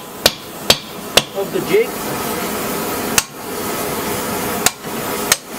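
Hammer striking metal work clamped tight in a vise on a jig, sharp ringing blows spaced irregularly, about six of them, close and loud against a steady background hum, with someone talking briefly between strikes.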